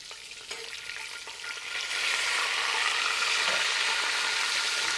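Breaded chicken cutlets sizzle in hot oil in a home kitchen, a dense steady crackle that swells louder after a couple of seconds and holds, close to the pan, with no talking.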